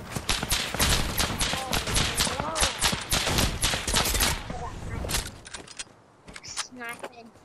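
Rapid, loud volleys from an automatic sniper rifle in Fortnite, sustained close bursts for about five seconds that thin to a few scattered shots and game effects as voices talk over them.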